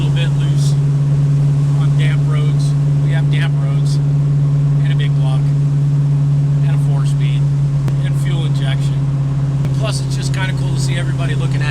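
A big-block MOPAR Plymouth Road Runner with a 4-speed cruises on damp roads, a loud steady low engine drone filling the cabin while someone talks over it.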